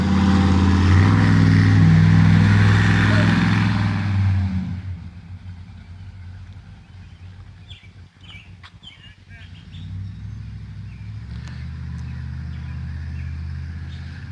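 A cold car engine left in neutral idles loudly, then drops off abruptly as it stalls, leaving a quieter background with birds chirping and a low rumble returning toward the end.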